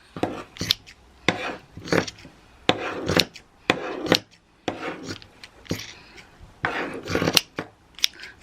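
Scissors snip repeatedly through a bundle of wool in short, crisp, irregular bursts, close and fairly loud, with rasping blade sounds and no talking.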